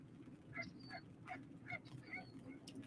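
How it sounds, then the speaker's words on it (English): A dog barks repeatedly near a campground in the Fort Sage OHV area, a series of short, faint yelps at irregular intervals, somewhat distant against low background rumble. "A dog. It must be a dog."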